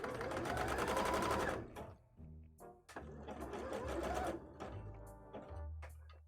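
A sewing machine stitches a wide, long zigzag through thick elastic for a bra, running in fast rattling bursts separated by brief pauses.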